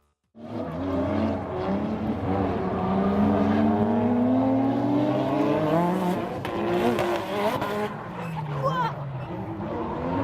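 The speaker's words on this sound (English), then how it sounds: "here's a quick clip of an actual drift battle we spotted while shopping in Odaiba one night" Cars in a night street drift battle in Odaiba rev their engines in rising and falling whines with bursts of tire squeal, while voices carry over the noise.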